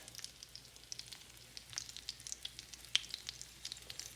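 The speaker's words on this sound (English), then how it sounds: "I'm going to get these mushrooms in there, get them toasting up just right" Dehydrated morel mushrooms toasting in a pan give a faint, soft sizzle with scattered light pops and crackles, quiet and close throughout.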